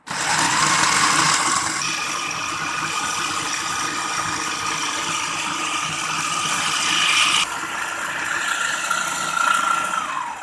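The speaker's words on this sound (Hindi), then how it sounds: "बिल्कुल ब्लेंड कर लेते हैं।" An electric blender grinds green chilies with salt and oil into a paste, a loud, continuous, close motor whir that changes pitch slightly partway through.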